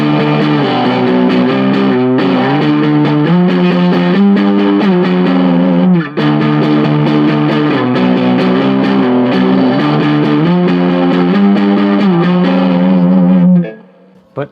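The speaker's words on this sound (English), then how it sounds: "So I'll turn the distortion sides back on" A power chord on electric guitar rings out loud through a King of Tone clone distortion pedal, held steady and saturated with a few re-strikes before being cut off near the end.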